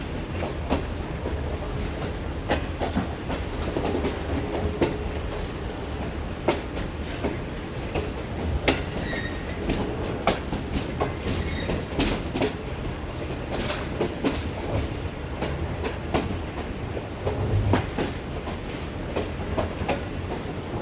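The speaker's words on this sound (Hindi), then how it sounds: "फाइनली दोस्तों ट्रेन ने लाहौर जंक्शन के प्लेटफॉर्म नंबर 4 को अलविदा कह दिया है।" Shalimar Express passenger train pulling out of Lahore Junction from platform 4, heard from aboard with a continuous rumble and rhythmic clickety-clack of wheels over rail joints, steady and fairly loud throughout.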